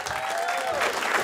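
A comedy club audience applauds after a stand-up set, a steady wash of clapping with some crowd noise and a faint whistle, held evenly across the brief moment.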